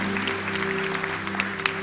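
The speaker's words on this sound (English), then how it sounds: "Let's give her a wonderful Stratford love clap" A church congregation claps together in warm, steady applause during a prayer service, a dense wash of hand claps filling the room without pause.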